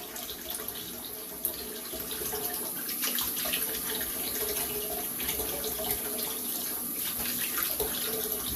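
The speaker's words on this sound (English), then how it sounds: "go ahead and rinse off here" Steady running water from a tap while rinsing off after a wet shave, a constant hissing splash that fills the whole stretch close to the microphone with no talking.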